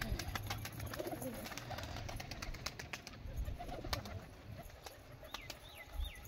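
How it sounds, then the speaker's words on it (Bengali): Pigeons coo softly in a quiet space, with low, repeated throaty calls over a faint background that includes occasional clicks and light rustling. "সব কবুতর পরপর বার হয়ে চলে এসেছে আমার কাছে"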